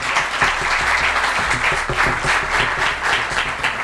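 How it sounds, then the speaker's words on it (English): An awards-evening audience gives a big hand clap for the Honorable Minister, dense steady applause from a crowd that holds at full strength throughout. "A big hand clap for the Honorable Minister"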